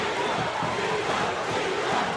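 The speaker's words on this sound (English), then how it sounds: "the entire crowd is on its feet, cheering Iván, Iván" Arena crowd at a boxing match roars and cheers on its feet, a dense, sustained wall of voices without pause.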